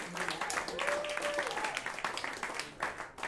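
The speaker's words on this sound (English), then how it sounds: "Start clapping right now for Mr. Patrick Keane." Audience applause for comedian Patrick Keane at a stand-up comedy show, steady clapping filling the room throughout with a brief voice passing over it.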